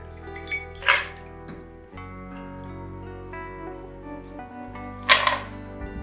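A chilled cocktail is poured into a glass, giving two short splashy bursts, one near the start and one near the end, over a low steady hum.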